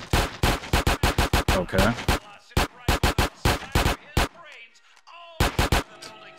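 Rapid bursts of gunfire from GTA San Andreas, sharp repeated shots in quick clusters with short gaps, loud and close, while someone speaks briefly between them.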